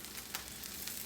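Omelette with mushrooms and leafy greens sizzling steadily in a cast iron skillet, a soft continuous frying hiss with faint crackles, no talking.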